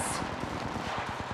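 Rapid automatic gunfire rings out in a squad-based battle royale video game, a quick burst of evenly spaced shots with no talking.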